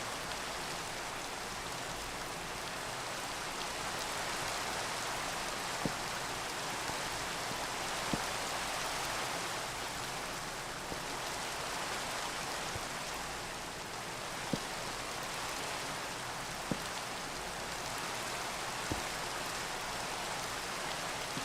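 Steady rain falls in a video game, a dense, even hiss that runs unbroken and alone the whole time, with faint soft ticks of drops landing now and then.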